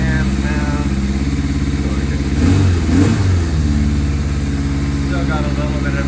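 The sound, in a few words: 1981 Suzuki GS850G motorcycle engine running on choke after cold start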